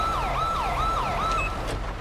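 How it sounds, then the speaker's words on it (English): A police car siren in the GTA V LSPDFR mod wails in rapid repeating sweeps, loud and close over a low engine rumble, with no talk. "I'm gonna turn off my siren because I think this is mine."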